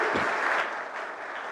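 An audience at a Hindu religious assembly in Bhopal bursts into applause, a dense, even wash of many clapping hands that fills the whole moment at moderate volume and eases off slightly toward the end.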